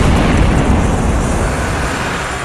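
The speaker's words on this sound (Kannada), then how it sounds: "ಅದು ಯುದ್ಧ ವಿಮಾನದ ಶಬ್ದ ಎಂಬುದು. ಅದಕ್ಕೆ ಸೋನಿಕ್ ಬೂಮ್ ಅಂತ ಕರೆದಿದ್ರು" A loud, dense, rumbling blast reported as a fighter jet's sonic boom over southern Bengaluru, a sustained broadband roar that stays heavy across the whole stretch with no talk.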